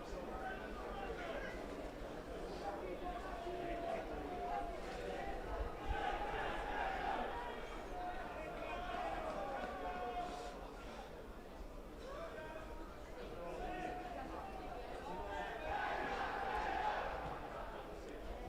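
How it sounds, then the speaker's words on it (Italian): Nuorese football fans in the curva of an Eccellenza league stadium, a steady distant crowd roar with swelling chants that rise twice, under continuous match commentary. "si fanno sentire in curva i tifosi della Nuorese che provano a spronare la squadra verde-azzurra"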